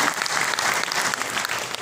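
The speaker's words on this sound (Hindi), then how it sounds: "उनका ताली बजा के स्वागत कीजिए" An audience at a Madhya Pradesh government event applauds a chief guest with dense, continuous clapping that stays even and full for a couple of seconds.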